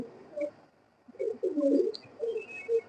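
Pigeons cooing in a cage, a few soft close coos and murmurs in short bursts over quiet background, with no talking.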